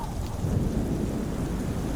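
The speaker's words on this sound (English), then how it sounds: "The rain is falling, the wind is howling, and the thunder is cracking." A stormy night thunderstorm with steady heavy rain, low rolling thunder and wind, a dense continuous roar throughout with no talk.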